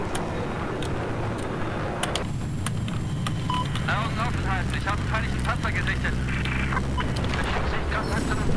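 Military airplanes fly in the Battlefield 4 video game, making a steady, loud engine roar that swells and thins over several seconds under a dense mix of other game noise.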